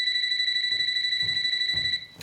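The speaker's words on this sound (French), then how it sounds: "Je vois bien le téléphone qui sonne." A telephone rings with steady, continuous electronic tones that sound close and loud, while faint thumps and rustles sit underneath and no one speaks.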